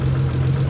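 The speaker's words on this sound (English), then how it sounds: "So the engine is idling pretty good, but I don't know if you guys can hear that ticking." A Nissan 300ZX engine idles steadily up close with a low, even hum and a faint ticking that may point to a lifter fault, with no talk over it.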